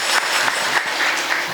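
Audience clapping at a Marathi kirtan, a steady dense patter of many hands filling the hall at moderate volume, with no voices over it.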